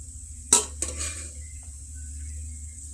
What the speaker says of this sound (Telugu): ఇప్పుడు రైస్ వేసుకుందాము.